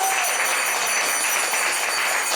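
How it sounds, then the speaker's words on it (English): A temple congregation at an ISKCON Atlanta Vyasa puja gathering in honor of their guru gives a dense, steady round of applause that fills the hall throughout, with no voices rising above it. "Let's give them a round of applause."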